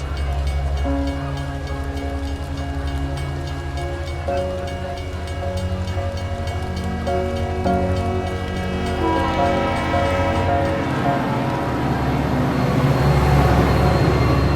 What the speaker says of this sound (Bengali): 5 মিনিটের মধ্যে ট্রেন ছেড়ে দিই, হুইসেল দিয়ে দিব।